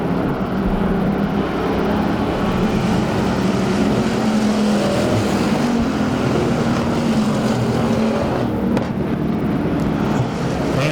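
Bomber-class race cars lap the Arizona Speedway during a 120-lap enduro, giving a continuous loud roar of several engines with swelling passes and no voices heard.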